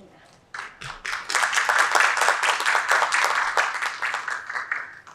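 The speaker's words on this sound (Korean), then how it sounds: "여러분의 큰 환영의 박수로 맞이해주시길 바라고요." Welcoming applause from a forum audience at an energy-innovation event in Korea, starting abruptly after a brief quiet moment, then holding a dense, steady clapping before thinning slightly toward the end.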